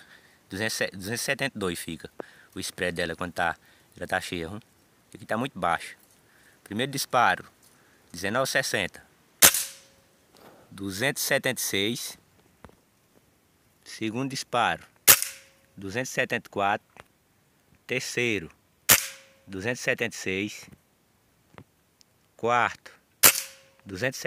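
A Reximex Zone air rifle with an unmodified hammer spring fires slug pellets over a chronograph. Several sharp, isolated cracks ring out among steady close-up talking.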